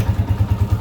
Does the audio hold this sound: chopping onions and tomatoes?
no